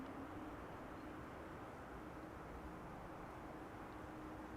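A Finnair Airbus A350 airliner lands at Amsterdam Schiphol Airport, a steady broad roar of jet engines with a faint tonal whine, continuous and unchanging, heard alone.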